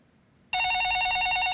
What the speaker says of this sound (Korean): 바로 전화 연결 도와드릴게요.